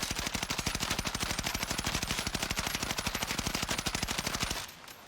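Volkssturmgewehr fire in a video game with a normal magazine, a loud, rapid, steady automatic burst of evenly spaced shots lasting about four and a half seconds, then cutting off abruptly.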